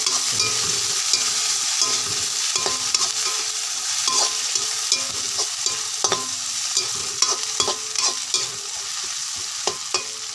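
Chicken liver curry cooking in a pan over medium heat, a steady sizzle and fry running throughout, broken by frequent clinking stir strokes, close and fairly loud, with no talk.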